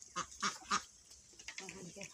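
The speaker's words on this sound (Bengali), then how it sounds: "রাধা হাঁস, হেতি হাঁস, সবগুলো হাঁস এখানে।" A few short, nasal quacks ring out close by, followed by softer honking calls from a small group of ducks, including Chinese ducks.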